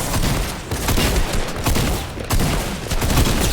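Automatic gunfire in the battle royale game Fortnite: loud, close bursts of rapid shots in quick succession, nearly continuous across a few seconds, with only brief gaps between volleys.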